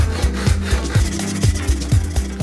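A hand saw cuts a wooden tenon for a Shaker table, with close, even back-and-forth strokes, about four per second, a rhythmic rasping grind of teeth through wood.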